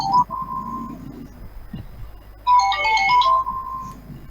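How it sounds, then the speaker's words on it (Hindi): A mobile phone ringtone chimes during an online question-and-answer class session, a short bright melodic phrase heard twice with a pause between, fairly loud against a quiet background. "सेल फोन वो तो वगैरह बज रहा है"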